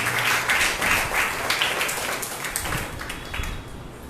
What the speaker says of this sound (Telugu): మనమందరం చప్పట్లు కొడుతూ ఆయనను ఆహ్వానిస్తూ ఆయనకి సమయం పెట్టాం